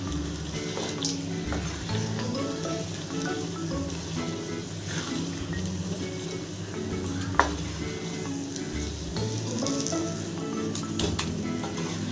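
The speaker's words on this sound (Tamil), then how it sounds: "இப்போ இதை ஒரு வாட்டி கலந்து விட்டுக்கலாம்." Wheat halwa with roasted cashews stirred in a pan on the stove, a steady low frying sizzle under repeated scraping strokes of the spoon, with one sharper clink partway through.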